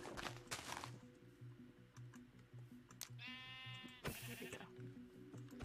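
A Minecraft sheep gives a short, wavering bleat over steady looping game music with light clicks and taps.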